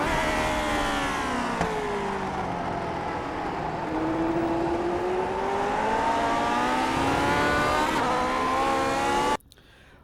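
Lotus 49 race car in iRacing's Grand Prix Legends mod at Motegi, its engine loud and close, revving steadily with rising pitch sweeps through gear shifts for about nine seconds before cutting off abruptly near the end.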